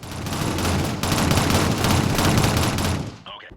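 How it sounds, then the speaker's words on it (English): Sustained SMG gunfire in the Shadowrun first-person shooter video game, a dense, loud continuous rattle of rapid shots running for several seconds before cutting off abruptly near the end. "Hold down the trigger if shooting enemies immediately in front of you, but remember to shoot in short, controlled bursts if players have some distance."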